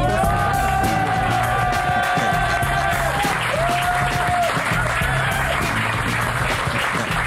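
Sustained applause from a live television studio audience, dense and steady throughout, with a few whoops and shouts rising over it and a musical tone gliding underneath.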